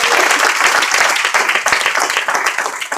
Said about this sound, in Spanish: Den una ofrenda de palmas al Rey de Reyes y Señor de Señores.